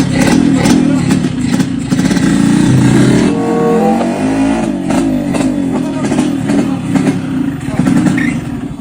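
A motorcycle engine revs and rides off nearby, its buzzing drone rising and shifting over several seconds, with voices talking loosely over the engine in a comedy sketch setting.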